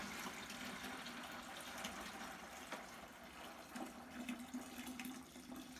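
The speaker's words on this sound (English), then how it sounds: "because it's water, we're just going to pour it into this bucket right here" Water from a handheld ULV disinfection fogger's line is poured into a bucket, a steady hissing splash heard close and alone, with a faint gurgling tone rising near the end.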